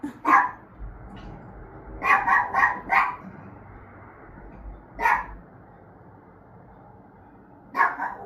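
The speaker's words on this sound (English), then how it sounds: "And that's my dog barking." A dog barks in short bursts, a single bark, then a quick run of four, later two more isolated barks, moderately near in a quiet room.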